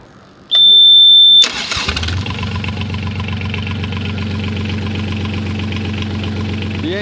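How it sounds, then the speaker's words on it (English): A marine diesel engine on a yacht starts after a fuel-system fix: a high steady whine from the starter, then the engine catches with a sharp burst and settles into a loud, even, rumbling idle close by, with no voices. "The engine started really nicely this time."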